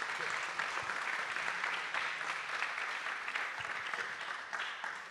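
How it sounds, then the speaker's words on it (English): Conference audience applauding after a talk on digital transformation in aviation, a steady dense clapping that holds for several seconds at moderate level and fades slightly at the end. "A big round of applause for Anis."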